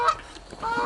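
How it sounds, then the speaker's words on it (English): Captive Canada geese honk at close range, a brief pair of nasal honks within less than a second. "Know what a goose actually sounds like when it comes to calling and stuff."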